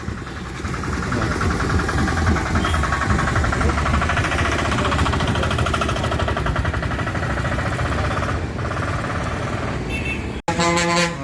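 A seated passenger auto rickshaw runs its engine in a steady, close mid-pitched rattle, with traffic around it and a short burst of horn toots just before the end.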